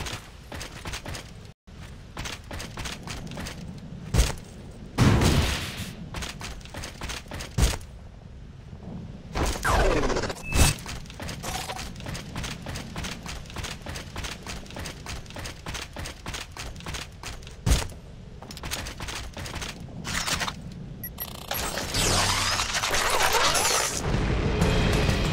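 Video game Vanquish: bursts of gunfire and repeated heavy explosions, some sharp and loud, over a constant rumbling battle backdrop that builds to dense noise near the end.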